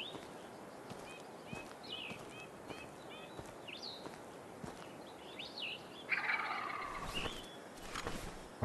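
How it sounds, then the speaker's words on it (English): Turkeys gobble in the hunting video game Hunting Simulator 2, with several rapid, warbling calls from a few birds, some faint and distant, others louder and closer, over quiet outdoor ambience. "So we're surrounded by turkeys."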